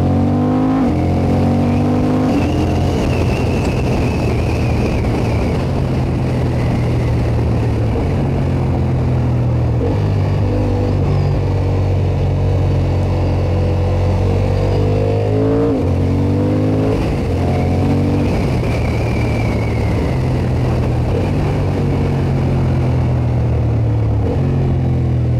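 A Honda Hornet CB750 motorcycle engine revs repeatedly, loud and close, its note climbing and falling through several throttle blips and gear changes as it rides along, with no voices over the continuous roar.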